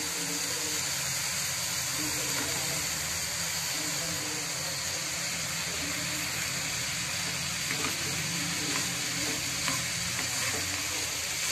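Soaked, squeezed sago pearls stirred and fried in a pan for sabudana poha, a steady sizzling hiss with soft scraping of the stirring spoon running throughout at an even, close level.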